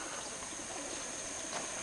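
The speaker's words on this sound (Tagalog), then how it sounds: "Pawalan natin yung mga ibon." Pigeons cooing softly at the back of a truck as the birds are set loose, a low steady murmur of calls under a broad hiss of outdoor background noise.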